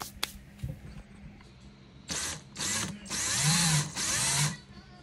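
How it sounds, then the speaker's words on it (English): A power drill bores holes in the bottoms of wooden candle holder sticks, whining in several bursts of rising length that grow louder, with a faint click and thump before the first burst. "my husband's drilling some holes in the bottom of them"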